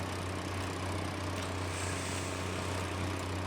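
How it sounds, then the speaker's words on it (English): A farm mower's engine drones steadily in Farming Simulator 19, a constant low mechanical hum at moderate level with no talk. "Now we're truly ready to get to mowing."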